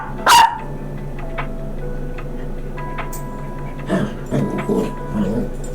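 A dog gives one sharp, loud bark near the start, followed by softer whimpers and muffled grunting noises later on, with a faint ticking sound and a quiet room in between.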